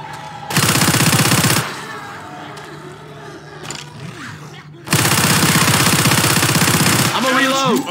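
Automatic gunfire in Left 4 Dead 2 rattles out in two long, loud, rapid bursts with a quieter stretch of game noise between them and a voice briefly at the end.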